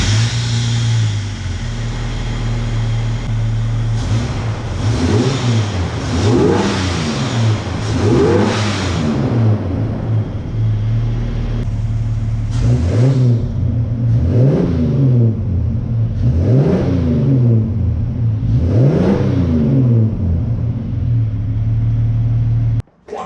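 A Holden XG ute engine idles with a deep steady rumble, then revs up repeatedly in rising and falling surges, loud and close, with no talking.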